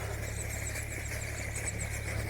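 A farm tractor's engine runs steadily nearby, a constant low rumbling drone with an even mechanical hum and no breaks, heard alone without voices.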